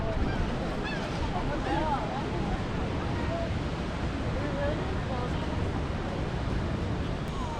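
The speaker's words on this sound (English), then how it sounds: "Check out the ocean." Ocean surf rolls onto the beach at Ocean City, New Jersey, by the boardwalk, giving a constant broadband wash of breaking waves. Steady wind rumble on the microphone runs throughout, with faint calls above it.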